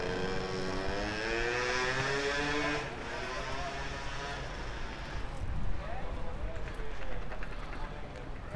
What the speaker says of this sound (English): I always think of noisy scooters when I'm in town.